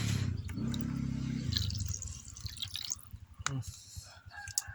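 Water poured into a washing machine for cleaning: a low gurgling pour for about two seconds, followed by scattered drips, light clinks and handling noises, fairly quiet and close.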